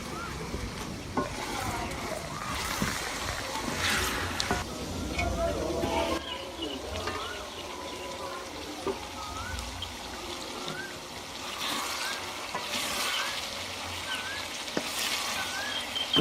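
Vegetables and potato pieces frying in a pot for chicken pulao, an uneven sizzle with bubbling and occasional stirring clatter, close by, with a voice speaking intermittently over it.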